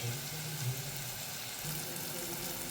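Chilli powder, masala and turmeric sizzle steadily as they are sautéed in a pan for a mushroom masala, a constant hiss with a faint voice murmuring underneath.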